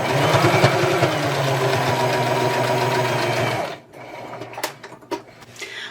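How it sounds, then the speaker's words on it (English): A sewing machine stitches along the inside edge of a Christmas tree quilt block potholder, a loud, steady close-up mechanical whir that stops abruptly, followed by a few scattered clicks and handling sounds. "I've sewn all along the edge on the inside where the little tree is"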